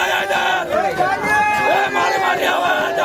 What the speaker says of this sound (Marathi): पाटली मातेची एक दिवसीय यात्रा उत्साहात हजारो भाविकांची दर्शनासाठी गर्दी